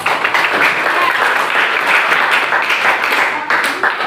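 Students in a classroom clap for a presenting group, a dense burst of applause from the room that holds steady throughout with no talk over it.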